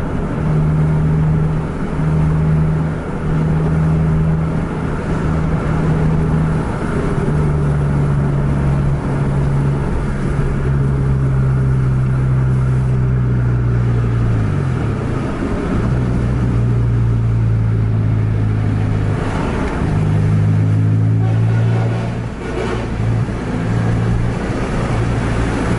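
A Jetbus 5 coach drives on the road and moves out to overtake another bus, its deep engine drone steady and loud throughout, with pitch shifts as the driver works through the gears, and no talking.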